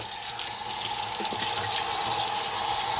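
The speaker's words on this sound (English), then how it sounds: "let me rinse my hands here" Hands are rinsed under a running kitchen tap while cheesecake is being made. The water flows steadily and splashes close by, and no voice can be heard.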